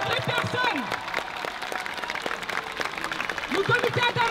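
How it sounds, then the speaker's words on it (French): Crowd of protesters at an Adama Traoré demonstration applauding the committee, a broad outdoor burst of clapping mixed with cheers and shouting voices, steady and fairly loud throughout. "Je vais vous demander de les applaudir très fort."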